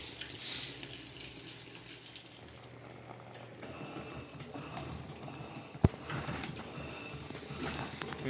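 Electrolux LTC15 washing machine filling with water, a faint steady rush and trickle of inflowing water with a soft thump partway through, low and continuous.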